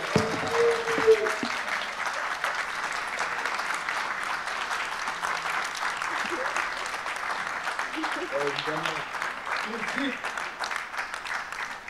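Sustained applause from an audience at the Blue Africa Summit, a dense, even clapping that holds for several seconds, with faint voices underneath.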